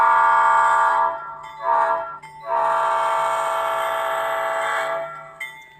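Model train rolling through a crossing on a home layout with signal gates, carrying a steady horn or whistle-like tone with brief dips and a short pause, close and fairly loud throughout, with no talking.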